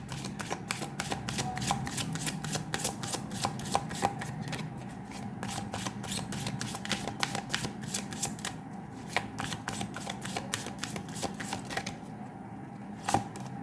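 Tarot cards handled and shuffled from a deck, a steady run of crisp riffling snaps and soft card slaps repeating close up for the whole stretch, with a sharp final tap near the end.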